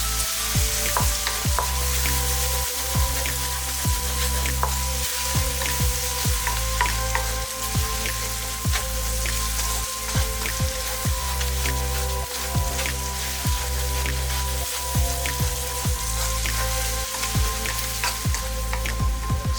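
Sliced onions sautéing in a pan for Kerala-style beef fry, a continuous loud sizzle broken by regular scraping and stirring strokes of a spoon against the pan, with no talking.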